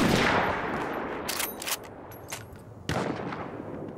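Gunfire in the video game Battlefield 1: a loud, dense wash of shots and blasts right at the start that fades into a rumbling battle din, with a few sharp cracks and another burst near the end.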